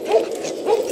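A little male dog whimpers in a yard, two short whiny cries close by with no talk.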